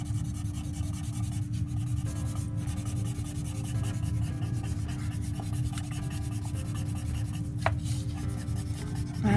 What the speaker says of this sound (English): you can always shade with your pencil